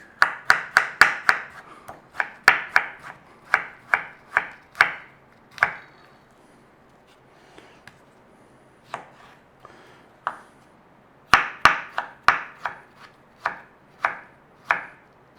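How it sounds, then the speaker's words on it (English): A knife halves and slices a beetroot on a board, giving sharp, crisp chops in quick bursts with short pauses between them, close and clear, with no talking. "So we are going to half it and slice it."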